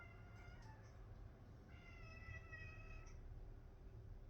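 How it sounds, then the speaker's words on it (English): A pet cat meows indoors, several short, fairly quiet calls in quick succession followed by a longer drawn-out meow, with low room hum underneath. "That's my cat Pickles"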